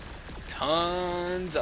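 Rocket Raccoon's Blaster Turret firing in the Marvel Heroes video game, a single rising electronic zap with a bright harmonic tone that holds for about a second before cutting off, heard alone and close.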